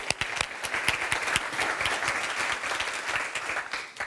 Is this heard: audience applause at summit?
yes